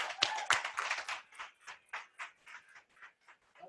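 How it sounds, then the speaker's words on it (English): Seminar attendees give themselves a round of applause that starts as a burst of clapping, then thins to a few scattered, separate claps that fade out. "So give yourselves a round of applause."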